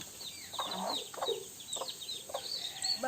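A hen clucking in a farmyard, a string of short, soft, close clucks over steady outdoor background noise.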